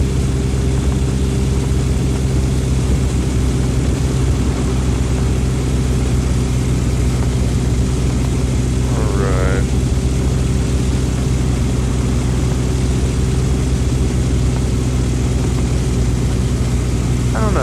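A propeller aircraft engine in the X-Plane VR flight simulator drones at a steady, loud pitch throughout, with a brief tonal sweep partway through and no letup in the constant hum.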